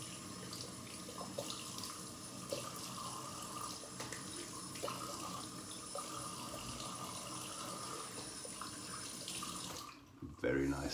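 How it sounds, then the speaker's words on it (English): Tap water runs steadily into a sink during rinsing after a Christmas Day shave, a close continuous splashing hiss that stops abruptly near the end, followed by faint movement. "Just gonna rinse down here."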